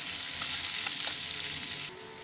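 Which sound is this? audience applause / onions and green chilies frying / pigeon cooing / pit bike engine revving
onions and green chilies frying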